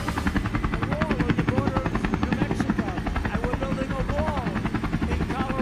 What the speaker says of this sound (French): Attendez, l'hélicoptère s'en va.